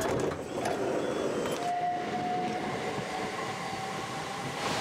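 A train passes through a quiet rural station in Kent, a steady loud rumble with a long metallic tone from the wheels or brakes that holds throughout.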